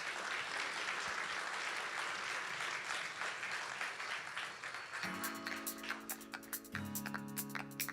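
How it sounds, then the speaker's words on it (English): An audience applauds for about five seconds, then the clapping fades as bright musical tones and ticking notes take over. "Round of applause for Eden."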